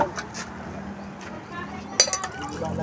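Large plates and dishes clink while food is prepared for a baptism celebration: sharp ceramic knocks over a busy background, with a cluster of clatter near the end.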